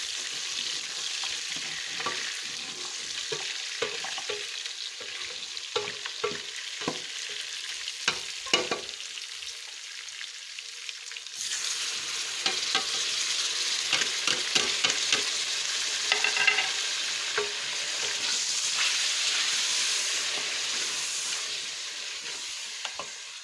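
Meat and tomatoes fry in a pan over a charcoal stove, giving a steady, loud sizzle with scattered scraping and stirring clicks throughout and no talking.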